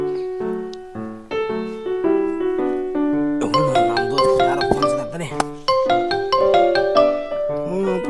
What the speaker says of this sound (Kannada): ನಮ್ ದೋಸ್ತಗ ಗೋಪಾಲ್ಗಾರ ಫೋನ್ ಮಾಡಂತಡಿ.